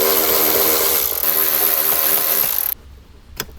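A ratchet wrench spins out 7mm bolts holding a speaker in a 2021-or-later Ford Bronco, a loud continuous mechanical whir that stops abruptly, followed by one faint click.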